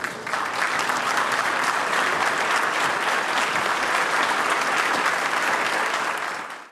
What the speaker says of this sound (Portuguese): a presidente Dilma Rousseff e a viúva Dona Vera receberem com palmas o corpo do arquiteto